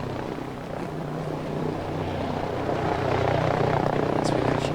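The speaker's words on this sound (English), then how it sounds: "So we've actually got a chopper drop coming in right now also, so dropping fairly centrally." A helicopter flies in carrying a supply drop in a battle royale video game, a steady low rotor drone that grows slightly louder toward the end, heard with no talk over it.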